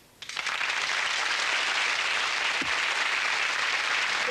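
Studio audience applause on the game show Blankety Blank bursts in after a brief quiet moment and then holds as a loud, steady roar of clapping to the end.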